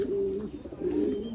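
A sick pigeon, listless, refusing food and passing green droppings, gives low, throaty coos in a short close-up run of two or three soft, pulsing calls with no voices.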